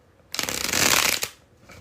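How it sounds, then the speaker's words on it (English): A deck of playing cards riffled together in a bridge shuffle: a dense, crisp burst of fluttering card snaps lasting about a second, close and loud, ending with a soft slap as the cards cascade back together, with no talking. "I'm about to do the bridge shuffle."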